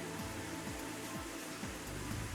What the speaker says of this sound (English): Rain droplets are so strong they actually hurt.